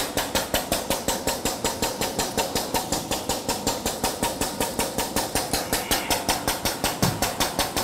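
A compressor running under increased pressure on a PIG filter setup, a loud, close, rapid rhythmic pulsing that thumps steadily and evenly throughout with no voices.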